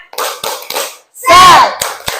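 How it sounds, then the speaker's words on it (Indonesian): Classroom children doing rhythmic spirit clapping, short bursts of claps in a patterned beat with a brief chanted shout in the middle, close and loud. "yuk tepuk semangat"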